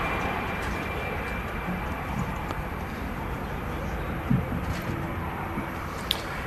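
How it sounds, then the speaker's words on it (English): A Lufthansa Airbus A319 departs Manchester Airport, a steady, moderately distant jet roar filling the background, with a few small knocks and clicks nearby. "Lufthansa A319 just departing there."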